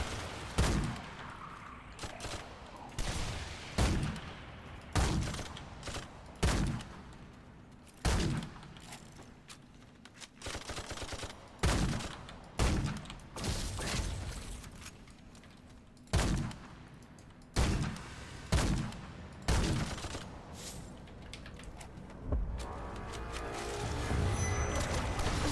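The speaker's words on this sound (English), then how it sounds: "Pazi, machine gun." Rapid bursts of machine gun fire from the video game Remnant 2, loud and close, coming in a steady series of sharp volleys with short gaps between them and a low rumble continuing under the shots.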